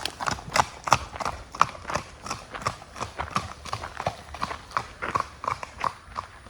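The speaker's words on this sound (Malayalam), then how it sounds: "ഞാൻ ജസ്റ്റ് ഒന്ന് റൈഡ് ചെയ്ത് നോക്കി കുതിര അടിപൊളിയാണ്" A large young horse in Kottayam is ridden along a road, its hooves clip-clopping in a steady, even rhythm at close range throughout.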